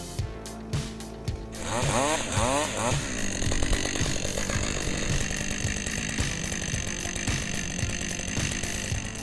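Chainsaw cutting a tree, loud rough engine buzz with revving bursts early on, then a steady roaring cut with rhythmic chatter throughout, with some voice mixed in.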